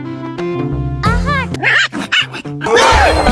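A dog barks and yips in a short, close, loud burst with whimpering notes, mixed with voices and tonal background sounds.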